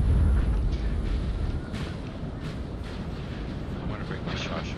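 Cannon artillery fire in Napoleon Total War, a dense, rumbling battlefield roar of distant booms and blasts, heaviest at the start and continuing steadily throughout.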